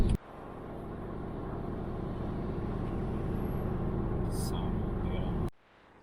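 Steady road rumble and engine drone from inside a car driving on the road, a continuous, fairly loud broadband noise that holds evenly for several seconds before cutting off abruptly.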